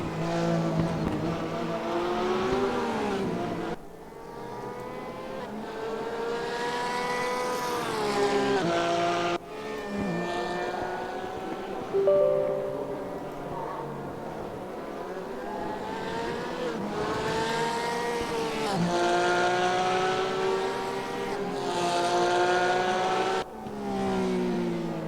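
Porsche GT3 Cup race car engine heard onboard during a RaceRoom sim race at Imola, loud and continuous, revving up and down through gear changes with brief lifts and shifts, no talk.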